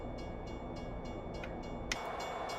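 Game-engine train rolling past in American Truck Simulator 2, a steady low rumble with faint rhythmic clicks and a brief brighter burst near the end, moderately quiet with no talking.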